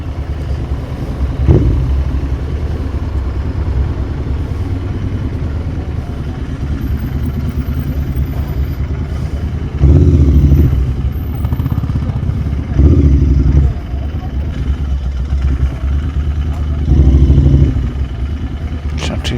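A GT650 motorcycle ridden across loose beach sand, its engine note a steady mid-range drone with brief louder surges of throttle or clatter at intervals.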